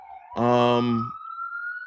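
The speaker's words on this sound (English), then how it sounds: "Once the police sirens stop." A police car siren wails in one loud, rising tone that fades into a long steady pitch, with a voice speaking over it.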